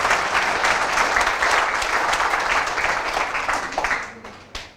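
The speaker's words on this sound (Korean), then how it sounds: "박수 한번 치도록 하겠습니다." Loud, dense applause from a crowd, sustained for several seconds before fading out with a few final claps.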